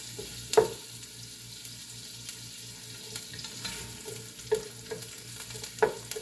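A spoon stirring pork stew in a pot, with a few distinct scraping knocks spaced seconds apart over a quiet, low, steady hum.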